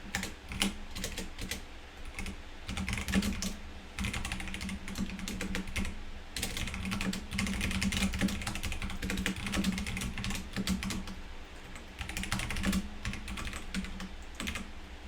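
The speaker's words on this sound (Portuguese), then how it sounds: "se o teclado for chato, vocês me avisam, tá?" Computer keyboard keys clatter in dense, continuous bursts of close clicks for the full stretch, with brief pauses between runs of typing and no talking.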